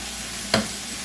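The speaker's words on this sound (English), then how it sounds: "Sizzling." Ground beef browns in oil in a hot skillet, a continuous near sizzle broken by one short, sharp clatter of stirring.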